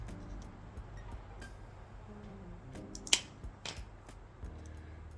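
A single crisp snip cuts a stained wooden stick petal in half for a floral mosaic, a quiet, close click against faint room noise.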